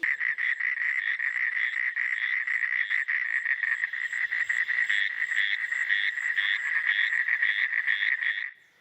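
Tiny frogs of about an inch in size call in a dense, rapid chorus of repeated croaks and chirps, loud and continuous for several seconds before stopping abruptly, with no voices.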